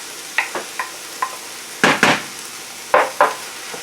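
Mushrooms go back into a pan for a vegan spaghetti bolognese and get stirred: a few light utensil scrapes, then heavier stirring clatters with a soft sizzle beneath, close and with no talking.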